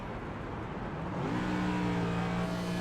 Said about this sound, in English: We're trying to coast the engine, and we'll see it here through 3 and 4.